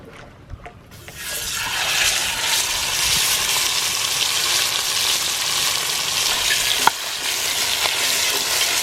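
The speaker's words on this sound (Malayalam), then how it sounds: "അപ്പോൾ നമ്മുടെ ചെമ്പല്ലി നമ്മൾ വറുക്കാൻ വേണ്ടി പോണേണ്" Red snapper frying in a pan: after a brief quiet start a loud, dense, steady sizzle fills the rest, close by, with one sharp pop near the end.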